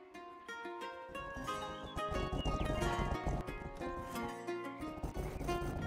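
Rhythmic clip-clop of horse hooves while riding in the video game Rustler, a steady trot over a bed of game music, close and fairly quiet.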